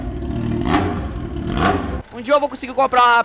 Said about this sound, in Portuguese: Tô achando que esse carro tá fazendo um barulho estranho